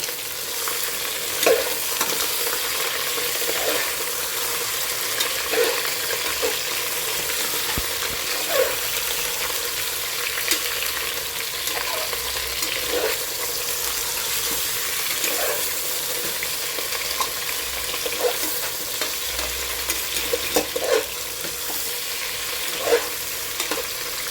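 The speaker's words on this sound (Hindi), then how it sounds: "तेज़ आंच पे हमें मटन भूनना है, बहुत अच्छी तरह से आंच को तेज़ ही रखना है और इसको भूनते जाना है।" Mutton being stirred and fried on high heat in a pot for Kashmiri rogan josh, giving a loud, steady sizzle with repeated scraping stirs throughout and no talk.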